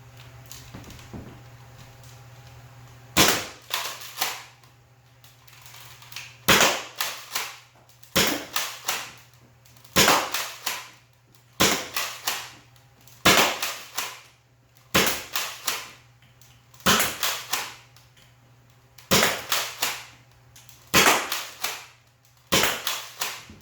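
A Nerf Nexus Pro blaster fires a steady series of sharp, close snapping shots in pairs and short bursts, each followed by a brief whirring clatter, with a faint constant hum between shots and no talking.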